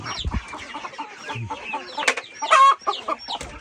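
Chickens cluck and squawk nearby in a busy, irregular flurry, with one louder burst of agitated clucking midway.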